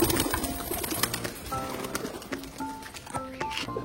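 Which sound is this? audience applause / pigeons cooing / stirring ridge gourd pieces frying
pigeons cooing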